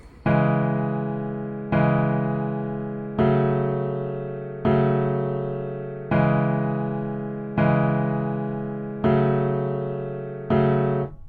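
A beat plays a basic two-chord melody progression with each chord doubled: eight evenly spaced synth chord hits, each struck loud and then fading, repeating in a steady, regular rhythm with no voices.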